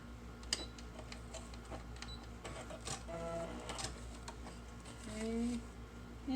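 A sewing machine stitches down the edges of paper and fabric for a junk journal, its quiet motor whirring and ticking in short runs at a low level.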